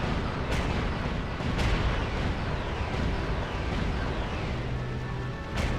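Gun turrets fire in the Castlevania: Curse of Darkness game, a rough continuous barrage of booming blasts. A few sharper bursts stand out over dense noisy rumble, loud and with no talking.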